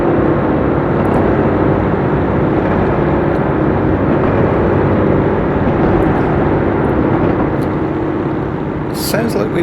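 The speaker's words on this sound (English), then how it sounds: "Sounds like we might have an engine failure here." Loud, rough diesel-like train engine drone in Train Sim World 2021, the engine failing, a continuous heavy rumble throughout with a brief click near the end.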